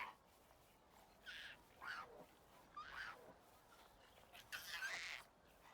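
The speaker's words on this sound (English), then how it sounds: "You guys hear the little meows?" Hatchling dinosaurs in Prehistoric Kingdom give faint, high, squeaky meow-like calls in a few short scattered bursts over a quiet background.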